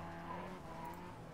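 A Mazda MX-5 race car in iRacing at Tsukuba skids with a brief tire squeal during a wreck, heard under a low, steady engine drone at modest volume.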